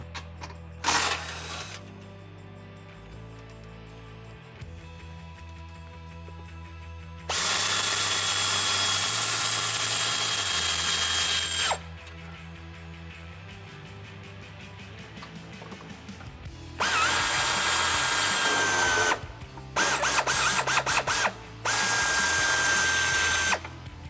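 Close power tool fitted with a 19 mm socket, spinning out a tow hook bolt on a Jeep Wrangler JL. It whirs in loud bursts, one long mid-clip run and several shorter ones near the end, with quieter clicking gaps between.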